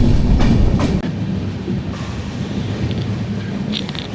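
The Venad Express runs on rails in Kerala between Thiruvananthapuram and Shoranur with a loud, close rumble and rhythmic clickety-clack of wheels over joints, plus a few sharp metallic clanks, with no voices.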